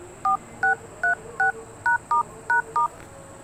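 Eight crisp DTMF keypad tones dial a code on a Mi phone, short evenly spaced beeps heard close and clear with no talking.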